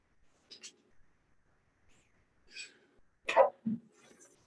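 Quiet sneezes come during a county commission meeting, with a soft burst early and a sharper, louder sneeze near the end, among faint breaths and murmuring voices.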